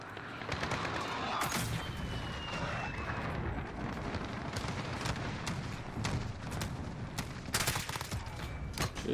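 Rapid bursts of P90 submachine gun fire in a video game amid a dense barrage of other gunfire and explosions, steady and busy with sharp louder cracks near the end.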